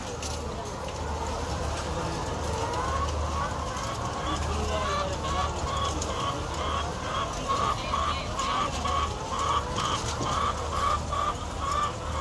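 Layer hens in cages clucking steadily, many birds close by in repeated short calls over a low hum, with a person talking through much of it.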